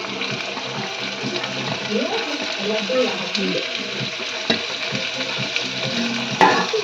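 Potato, capsicum and carrot fry and get stirred in a pan for veg pulao, a soft continuous sizzle with scraping, while people talk over it.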